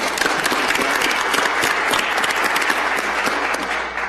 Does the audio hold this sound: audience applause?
yes